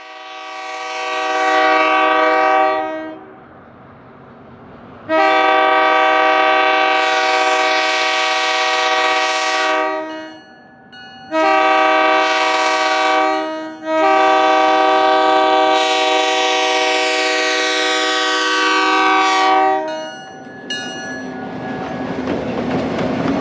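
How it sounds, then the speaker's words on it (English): A Prairie Dog Central Railway train passes nearby through the town of Gordon, Manitoba, with repeated loud horn blasts over the steady rumble and clatter of rail cars, fading toward the end. "Here's the train rolling through the town of Gordon, Manitoba."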